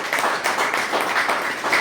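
An audience claps for upline mentors at a gathering, a steady moderately loud patter of applause with slight pulsing, no voices over it.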